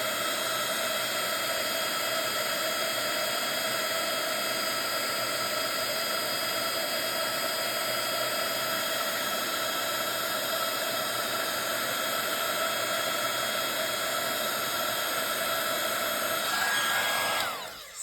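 Embossing heat gun warming a card, a continuous loud blowing whir with a high whine that runs steadily for the whole stretch and cuts off at the end.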